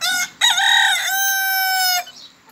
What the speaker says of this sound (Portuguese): O vermelho aqui, chegou o frango aqui, ó. Bem novinho.